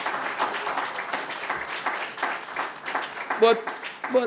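Audience applause at a research, technology and innovation day event, a moderate steady patter of many hands with people talking over it and a couple of brief louder sounds near the end.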